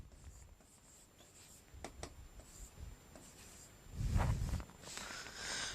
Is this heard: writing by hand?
yes